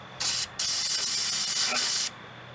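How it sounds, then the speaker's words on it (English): Brake or carburetor cleaner sprayed onto the intake runners of a 1998–2007 Honda Accord or Acura TL/CL J-series 3.0 V6, heard as a brief close hiss, a short pause, then a sustained steady spray lasting over a second. "you can squirt that out with some brake clean, some carburetor cleaner"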